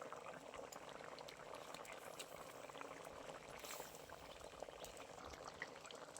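Water is at a full rolling boil in a cooking pot for a radish and shrimp curry, giving a faint, steady bubbling and gurgling that goes on throughout with no talk.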